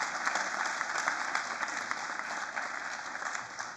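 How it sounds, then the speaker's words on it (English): Steady audience applause at an evening panel discussion on politics, a dense crowd clapping continuously at moderate loudness with no voices over it. "So, round of applause."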